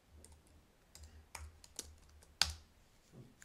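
Someone types code on a computer keyboard, with a handful of sharp, irregular key clicks and one louder keystroke near the end, close and quiet against a faint low hum.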